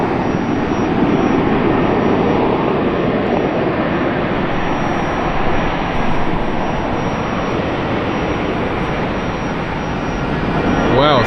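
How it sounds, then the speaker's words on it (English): Southwest airliner taking off at Los Angeles International Airport, a loud, steady broadband jet engine roar that holds continuously throughout without pause, heard from a spotting position nearby. "Let me catch these takeoffs real quick."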